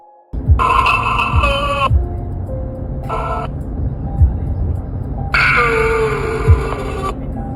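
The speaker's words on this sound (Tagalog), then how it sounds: "napansin nila na parang merong interference ang kanilang walkie-talkie" Walkie-talkie interference in a moving convoy on Buda Road, with loud bursts of harsh radio static and tonal squeals that cut in and out over a low throbbing rumble.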